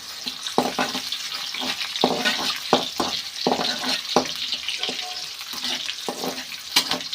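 Food frying in a pan until golden, a close, continuous crackling sizzle with intermittent sharp stirring clicks and spatters, steady in level and heard alone without talk.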